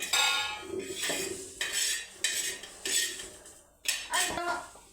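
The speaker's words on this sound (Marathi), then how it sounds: "तुरीचे दाणे असले की गरम गरम ठेसून घ्यायचे असे मस्त खलबत्त्या" Hot cooked pigeon pea grains are pounded in a mortar and pestle, giving about seven sharp, close clinking knocks at an uneven pace, with short pauses between them.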